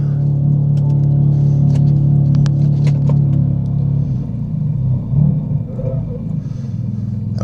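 A BMW G87 engine fires up and settles into a deep, loud, steady idle rumble with a low hum, some light clatter and clicks over it, and the engine note shifting and easing off partway through.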